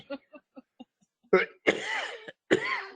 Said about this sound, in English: Sorry for this ongoing cough.